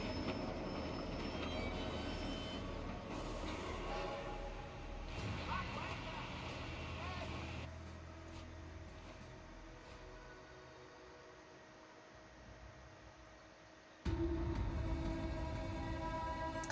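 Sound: railway gun train in Sniper Elite 4 video game

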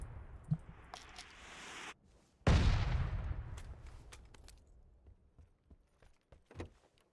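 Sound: mortar fire in a video game

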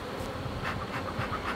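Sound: swarm of honey bees buzzing around an opened hive

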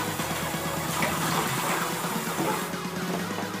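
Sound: water splashing

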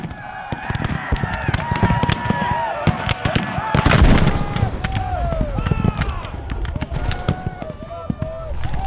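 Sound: artillery canister and musket fire in a Civil War battle

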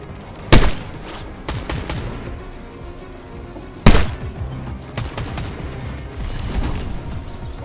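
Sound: gunfire in the video game Fortnite

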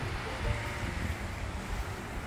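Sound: ocean waves breaking against the beach

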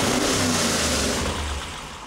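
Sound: Small Block Chevy engine starting and running on dyno

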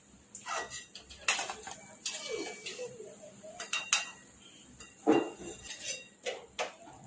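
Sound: fried corn being taken out onto a plate

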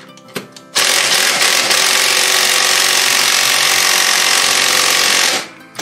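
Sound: power tool tightening rear wheel on MTD yard tractor

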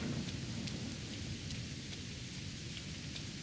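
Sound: rain in video game Sengoku Dynasty

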